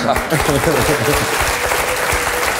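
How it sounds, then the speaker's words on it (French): A television studio audience applauds in a dense, steady burst of clapping close by, with people talking over it. "Maribel, on l'applaudit"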